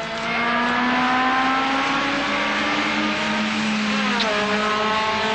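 A race car accelerates out of a corner, its engine note loud and close, rising steadily in pitch with a continuous strained roar that holds for several seconds.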